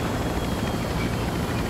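Helicopter rotor in Call of Duty, a steady loud whirring drone that fills the whole stretch at constant volume, with no voices over it.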